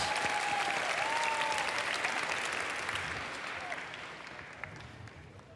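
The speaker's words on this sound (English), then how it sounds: "Give him a big round of applause." MINECON 2013 convention audience applauding after a Minecraft costume contest entry, dense sustained clapping from a large crowd that starts loud and gradually fades out, with a few scattered claps lingering at the end.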